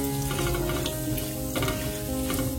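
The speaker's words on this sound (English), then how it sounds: "The oil is hot now and to this I'll add in the bay leaves and the cumin seeds." Bay leaves and cumin seeds sizzle steadily in hot mustard oil, a dense continuous frying crackle close up with light stirring scrapes, no talking.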